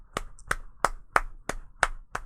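Seven evenly spaced, crisp claps ring out one at a time in a steady rhythm. The hands are close and there is no other sound between the claps.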